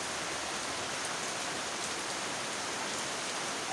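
Heavy rain pours down steadily during a provincial downpour in the Philippines, a dense, even hiss of drops drumming on surfaces with no breaks and no voices.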